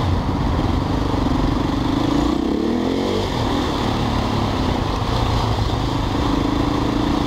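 Husqvarna motorcycle engine running loud and close in street traffic, a steady throaty drone with a brief rev swell partway through, alone without voices.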